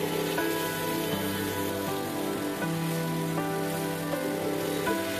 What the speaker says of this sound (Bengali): বরবটি সিম করলা সব সবজিগুলোকেও ভালোভাবে ভেজে নিব